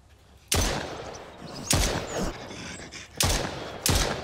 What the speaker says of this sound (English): He don't like getting shot with a shotgun